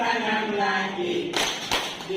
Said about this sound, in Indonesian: tutup, tepuk tangan lagi,